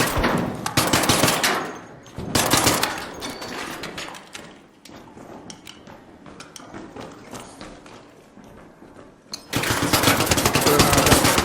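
Bursts of rapid automatic gunfire, loud and close, open and close the stretch, with quieter scattered shots and clatter in between.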